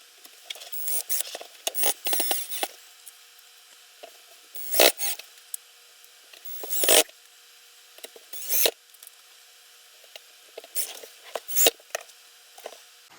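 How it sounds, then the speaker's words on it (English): Screws being installed during a TV studio build, heard as scattered close scraping, rattling and clicking bursts of hardware handling with quiet gaps between, no voices. "Let's get some screws and we'll start installing that."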